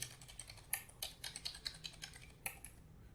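Rapid, irregular keystrokes on a computer keyboard while entering text in a Python Qt menu demo, close and fairly quiet, with brief pauses between bursts and no talking.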